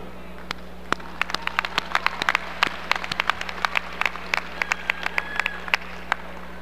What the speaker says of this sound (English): join me in a strong round of applause for our faculty, professional staff, and many volunteers